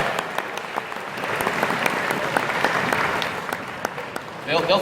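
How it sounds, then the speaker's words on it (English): A convention audience gives a round of applause, a broad, steady wash of clapping from many hands with a few sharper individual claps standing out, rising slightly toward the end. "Round of applause for the benevolent corporate overlords"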